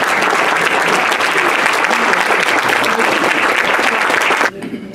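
Loud, dense applause from a large dinner audience at a mall gathering fills the room steadily, then cuts off abruptly just before the end.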